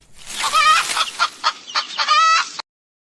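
A hen clucks repeatedly in a close, loud burst of uneven clucks rising into a drawn-out cackle, heard alone with no talking.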